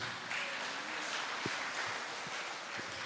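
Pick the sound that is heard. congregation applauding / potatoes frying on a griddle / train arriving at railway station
congregation applauding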